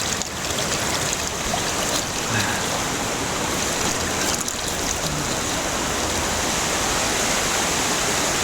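Water from a mountain stream on the East Fork San Gabriel River rushes continuously, a loud, dense, steady wash heard up close.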